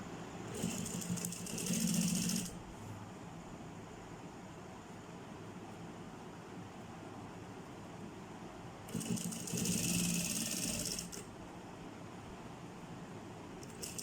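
Sewing machine stitching a crochet bag, two loud bursts of rapid stitching separated by a long stretch of quiet room noise.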